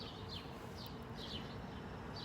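Faint bird chirps repeat every half second or so over a quiet, steady background hiss.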